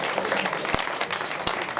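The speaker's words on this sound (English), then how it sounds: "Give him a round of applause." An audience applauds a performer after a street crime solutions show, a steady wash of clapping with a few louder claps standing out, continuous throughout.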